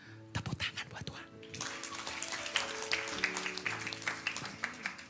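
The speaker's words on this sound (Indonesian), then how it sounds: "Tepuk tangan buat Tuhan." A church congregation breaks into applause during a sermon on prayer, a rushing wash of clapping that swells in after a quieter start, with a voice and tonal sounds underneath.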